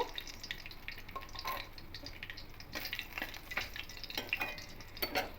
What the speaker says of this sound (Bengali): এবার এই তেলের মধ্যে দারুচিনি লবঙ্গ এলাচ ফোড়ন দেব